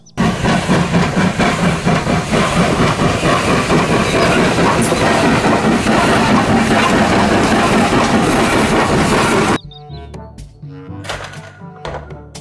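A toy Thomas train runs with a loud, continuous mechanical clatter and rhythmic clicking for about nine seconds, then drops to quieter, sparser clunks and whirring toward the end.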